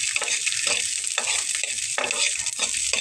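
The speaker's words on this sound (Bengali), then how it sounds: "আমি একটা রসুন এখানে ভেজে নিচ্ছি এরকম করে" Garlic fries in a little oil after dried chilies, a continuous bright sizzle broken by repeated scraping stirs of a spatula, close and steady with no talking.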